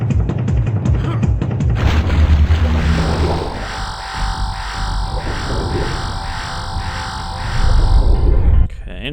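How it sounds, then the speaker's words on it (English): A grenade explosion in Turok thunders with heavy, loud booms and rumbling debris at the start, then gives way to a ringing, pulsing tone before a final burst. "I was dropping grenades from above."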